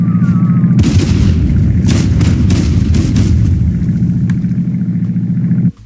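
A small bombardment explosion from the HBM NTM mod in Minecraft: a sudden loud boom followed by a dense, rumbling roll of blasts that keeps going for several seconds, then cuts off abruptly.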